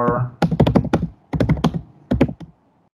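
Computer keyboard typing close up, with quick bursts of clattering keystrokes separated by short pauses and no talking.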